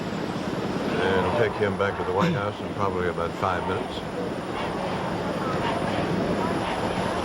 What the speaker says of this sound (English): The helicopter's in the parking lot of the Capitol Center